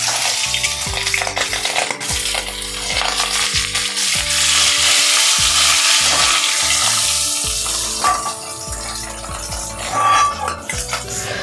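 A fish head fries in hot oil for a Bengali kudli dish, giving a loud, continuous sizzle and crackle with occasional clinks and scrapes of a utensil in the pan, close up and with no talking.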